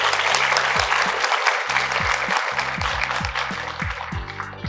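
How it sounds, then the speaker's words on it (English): An audience gives a lecture on gendered devotion to the Virgin in Spain a final round of applause, a loud, continuous crackle of many hands clapping, with low thumps underneath and a voice speaking faintly. "let's wrap that up with one more round of applause"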